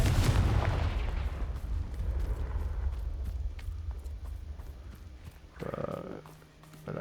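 A Confringo blasting spell goes off in a Harry Potter video game on ultra-hard mode, a heavy boom at the start that rumbles and fades into a low, drawn-out roar with scattered softer thuds after it.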